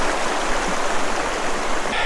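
Sand River flowing beside a hiking trail near Lake Superior, a steady broadband rush of moving water, close and fairly loud, continuous with no talk.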